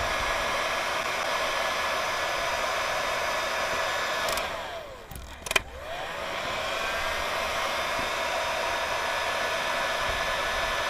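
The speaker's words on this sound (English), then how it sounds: "But a heat gun is ideal, as you can see, it's like sucking real nice to that wire." A heat gun blows a steady broadband hiss for several seconds while shrinking heat-shrink tubing onto a trailer brake wire, briefly dropping and cutting out midway before resuming, with no talking.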